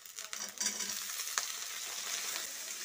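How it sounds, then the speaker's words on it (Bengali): Small potato pieces sizzle in hot oil with onions while being stirred, a steady close frying hiss with light scraping throughout and no talking. "আলুটা দিয়ে নাড়াচাড়া করে নিচ্ছি।"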